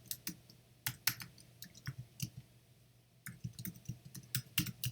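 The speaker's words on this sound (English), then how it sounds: "I type in what the error is" Quick, irregular keystrokes clatter on a computer keyboard, close and fairly quiet, in bursts with a brief pause partway through.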